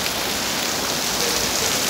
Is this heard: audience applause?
no